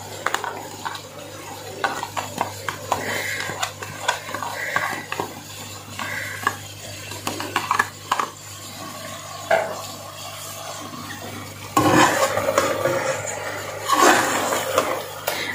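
Turnip chicken curry with kasuri methi and spinach being stir-fried in a pot, with repeated close spoon scrapes and clanks against metal over a low sizzle, growing louder and busier toward the end, no talking.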